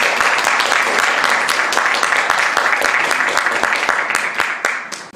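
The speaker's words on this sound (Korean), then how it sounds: "큰 박수로 맞으시기 바랍니다." A hall audience at a student philosophy presentation festival claps warmly to greet the presenters, dense clapping holding steady and then tapering off at the end.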